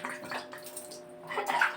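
Water splashes and patters irregularly, like a spray hitting a surface, as a dog is showered, with faint hum underneath and a louder gush near the end.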